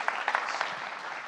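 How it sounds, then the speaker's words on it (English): Audience clapping at a pitch contest, a brief, fairly faint patter of applause with a few sharper claps near the start, continuous across the short span. "Let's give another round of applause for Dixon and Legacy LLC."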